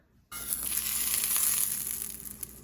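Sourdough English muffins cooking in a covered pan give a sudden loud sizzle that starts after a brief silence, then hisses steadily and close before tapering slightly.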